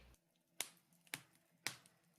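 Three sharp claps spaced about half a second apart, close and crisp, against a quiet background with no voices.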